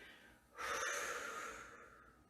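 One audible breath drawn in through the nose during a seated knee exercise, a single breathy inhale that swells suddenly, then slowly fades, alone and fairly close.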